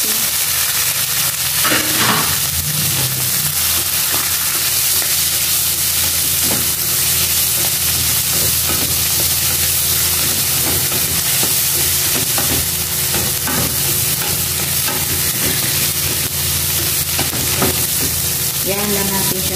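Tomatoes, three pieces, frying in a pan as part of a kangkong dish, giving a steady loud sizzle and hiss throughout, with occasional stirring scrapes and clanks layered over the continuous frying noise.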